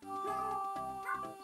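Cat meows from a Yoshi's Island video game, a short burst with a musical game soundtrack running beneath it.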